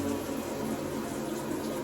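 Mineral water pours steadily into a container during a house move ritual, giving a continuous, even splashing rush that fills the whole moment without speech.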